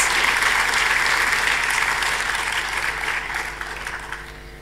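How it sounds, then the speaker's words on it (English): A loud, dense round of applause from a large ceremony audience greets Sierra Leone at a closing ceremony in a Delhi hall, steady and sustained before tapering slightly toward the end. "if I could ask a favor for an extra loud round of applause for my home country of Sierra Leone"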